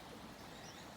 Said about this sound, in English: As you can hear the water in the background here at Trebah, they've got a stream running through their plantation